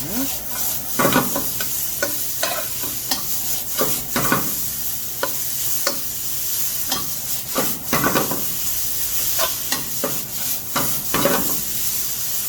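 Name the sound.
stir-frying julienned carrots and vegetables for japchae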